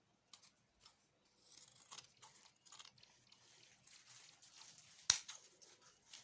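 Scissors snip through fabric for a headband in a quiet room, a run of soft crisp cuts ending in one sharp clack of the blades.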